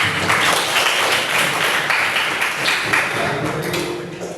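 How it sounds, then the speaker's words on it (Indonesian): Students in a high-school classroom clap together in a lively, continuous round of applause that thins slightly toward the end, heard up close with no speech on top. "Silakan beri tepuk tangan untuk Mas."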